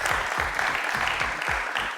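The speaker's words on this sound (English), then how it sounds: "Round of applause, please." A panel discussion audience gives a round of applause, a short spell of steady clapping from a moderately sized crowd.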